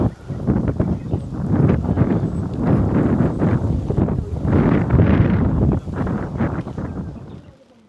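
Cool wind on a Kintoki mountain hike in Japan, rumbling against the microphone in rolling gusts for several seconds before fading out at the end.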